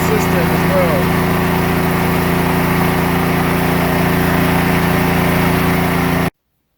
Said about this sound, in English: there's the RPMs on the generator now. So she's running real good, pretty consistent as well